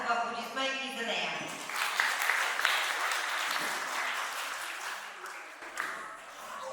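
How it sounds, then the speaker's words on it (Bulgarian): A village audience at a spring concert in Yagodovo applauds in a sustained, dense wash of clapping that builds and then eases slightly, with voices audible over it. "Аплодисменти за нея."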